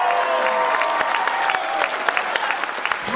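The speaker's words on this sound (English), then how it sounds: "Big round of applause" Dense applause and some cheering fill a convention closing ceremony hall, a loud sustained wash of clapping with sharp individual claps standing out.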